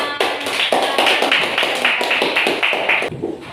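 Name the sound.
class clapping hands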